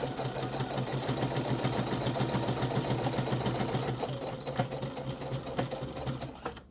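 A sewing machine stitches around the edge of a fabric roll-up crayon carrier, a steady close mechanical whir and rapid needle chatter that slows and stops near the end.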